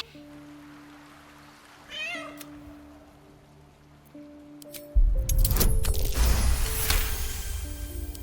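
A cat meows once, brief and clear, in the fantasy role-playing game Baldur's Gate 3 over quiet ambient tones, followed by a louder burst of clattering and rumbling game sound.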